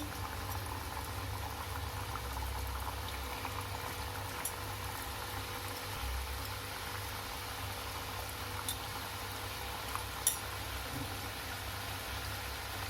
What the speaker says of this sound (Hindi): और मीडियम फ्लेम पर ही फ्राई करना है।